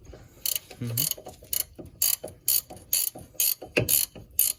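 Ratchet wrench tightening brake caliper bolts during a Brembo brake swap on a Dodge Charger RT, heard as a steady series of close, sharp ratcheting bursts, about eight strokes in a regular rhythm.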